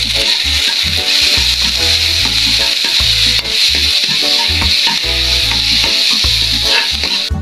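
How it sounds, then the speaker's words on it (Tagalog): Onion, garlic and tomato sautéing in a pan for a sardine dish, with a loud, constant sizzle close by and a rhythmic scraping of a spoon stirring against the pan, no talking. "Siyempre, gisahan muna sa una. Sibuyas, bawang, kamatis."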